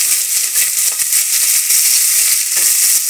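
Thickly sliced onions frying in a pan for egg biryani, a loud, dense, steady hiss of sizzling oil with faint scattered crackles.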